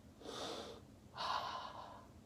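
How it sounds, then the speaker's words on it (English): Two slow, close breaths during a plank exercise: a long inhale through the nose, a brief pause, then a longer exhale out through the mouth. "And now watch my breathing. In through your nose,"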